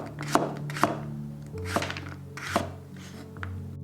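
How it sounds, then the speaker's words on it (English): A knife chops sweet potatoes into large chunks on a board, giving about five distinct, evenly spaced knocks over a low, steady musical background. "Cut sweet potatoes into the bigger chunks than any other vegetable since it breaks apart easily"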